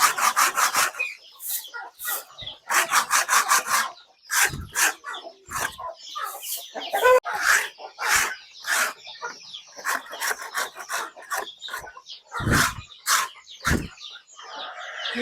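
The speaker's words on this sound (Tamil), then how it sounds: "கோழியெல்லாம் முதிச்சு அதை அப்படியே ஒரு ஓரத்துலேருந்து சுரண்டிட்டு அப்படியே கூட்டிகிட்டு வந்துடலாம்" Dry scraping and sweeping across a chicken coop floor during rainy-season cleaning, with repeated rhythmic strokes in bursts, close and fairly loud, with no talk.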